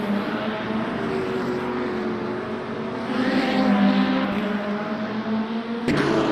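Race cars roaring around Monza in the sim racing game Le Mans Ultimate during a multiclass race, a steady engine drone with pitch shifts as cars accelerate, ending in a brief sharp change.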